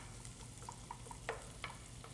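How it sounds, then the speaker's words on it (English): Onions sauté in a pan with a soft, continuous sizzle and a few faint stirring clicks. The sound stays quiet throughout and no one speaks. "So add some onions. cool. So we'll saute that up a bit"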